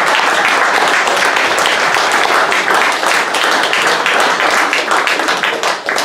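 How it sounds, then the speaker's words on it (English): Loud, dense applause from an audience after a speech at a panel of peace activists, steady and sustained throughout, with a slight dip near the end. "But you can applause now."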